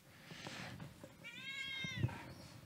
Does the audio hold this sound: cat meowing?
yes